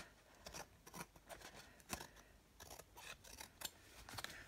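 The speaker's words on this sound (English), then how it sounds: "I think I'll take my big scissors and just chop this down a bit." Big scissors chopping through designer series paper scraps, a quick run of crisp close snips and rustles, quiet and alone.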